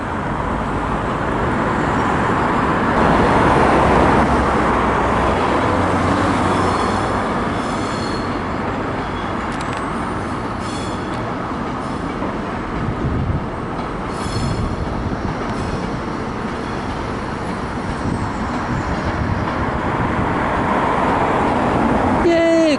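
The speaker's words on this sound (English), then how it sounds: "Got a train at last." A train rolls along the railway beside a canal near Wolverhampton station, a loud sustained rumble with wheel squeal and clatter and faint voices in the background.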